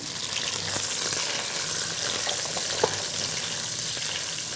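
Chicken sizzling with garlic in a hot pan gives a steady close frying crackle with light stirring scrapes throughout.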